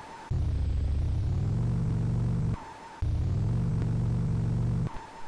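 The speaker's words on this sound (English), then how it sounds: "We just have to hear the sounds of the car over and over again" Repetitive car engine drone from the Mad Max video game, a low steady rumble that cuts out briefly and restarts twice, with no music or talk.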